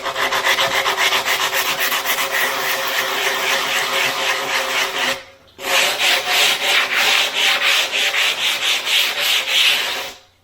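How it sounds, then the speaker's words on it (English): A concrete countertop is sanded by hand, producing a loud, close, steady rasping scrape in rhythmic back-and-forth strokes, with a brief pause midway before it resumes. "I'd rather sand it too, because if you hit it with a grinder, now it could chip."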